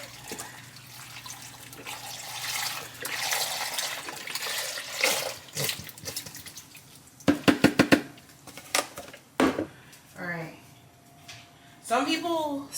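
Chicken broth pours into a cooking pot in a home kitchen, a steady liquid splash and gurgle running for several seconds under background kitchen noise, with a few sharp clatters and brief talk near the end.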